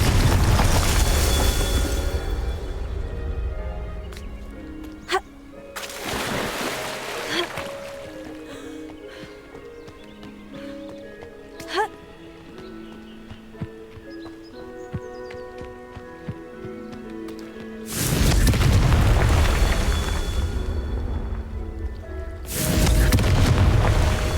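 Spells explode in the Hogwarts Legacy video game: several loud, broad booming blasts, two near the start and two near the end, with quieter magical tones, chimes and thuds between them.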